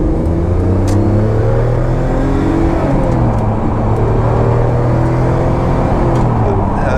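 A Noble M12 GTO-3R sports car with an M400 gear linkage accelerates through a gear change. Its engine drones loudly and continuously, and the pitch climbs and drops as the revs rise and the gears are shifted.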